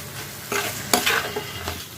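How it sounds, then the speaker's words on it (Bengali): Banana stem curry gets stirred with coriander leaves and sugar, a few brief spatula scrapes and shuffles over a faint sizzle in a short, close burst. "এবার ধনে পাতা আর এই মিষ্টিটা দিয়ে এবার ভালো করে এটাকে একটু নাড়াচাড়া করে নেব"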